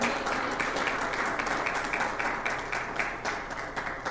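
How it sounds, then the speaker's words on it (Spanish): A church congregation applauds during a sermon, a dense, steady wash of clapping that fills the room from start to finish and fades slightly toward the end. "El aplauso es para el Señor."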